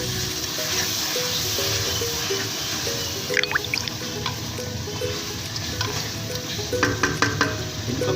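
Spices fry in a pan for a potato and capsicum dish, a dense steady sizzle with stirring scrapes, then a splash of water bursts into louder crackling spurts partway through, close and continuous.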